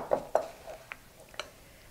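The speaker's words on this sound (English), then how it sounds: "Okay, we're gonna mix that up." Quick clinks of a utensil against a bowl while potato pancake batter with flour and egg is mixed, a few light, close taps spaced irregularly over a couple of seconds, with no talk.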